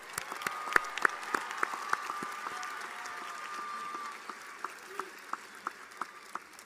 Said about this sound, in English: Let's have everyone please join me in giving a round of applause to the graduates.